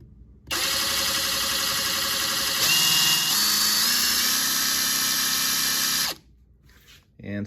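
A Ridgid 4-mode impact driver runs at speed 2 in a single burst of about six seconds, a loud steady high-pitched electric whir whose pitch steps up slightly partway through before it cuts off, with no talking.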